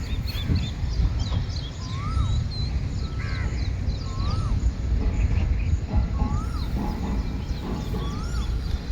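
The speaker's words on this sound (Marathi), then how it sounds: "सकाळी सकाळी पक्ष्यांचे आवाज येतात आहे" Crows caw repeatedly over a steady outdoor background, with several calls spaced a second or two apart and fainter bird chirps mixed in.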